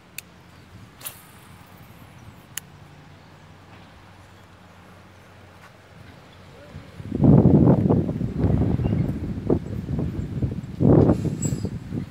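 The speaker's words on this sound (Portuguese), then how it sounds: "tá ventando bastante" Strong wind gusting at a reservoir while fishing for tilapia with an artificial lure, a loud rough roar buffeting the microphone in the second half of the clip after quieter ambient noise.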